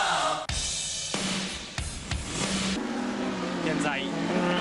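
Group A race cars at the 1991 Inter TEC at Fuji pass a lapped car on the home straight, with loud engine roar and shifting revs as they go by. A commentator talks over it.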